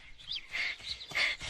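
Newly hatched chicks give a quick run of high, faint peeping chirps in a farmyard coop setting.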